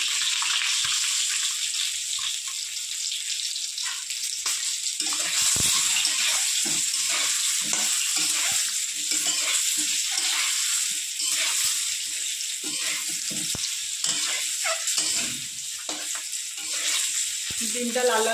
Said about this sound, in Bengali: ডিমটা লাল লাল করে ভেজে নেব